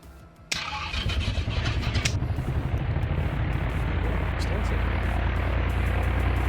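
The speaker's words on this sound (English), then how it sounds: "Well, the engine's still warm, so you don't need to do a cold start." An aircraft engine in the X-Plane 11 flight simulator, already warm, fires up with a sudden jump in level and settles into a steady, loud, droning run that continues to the end.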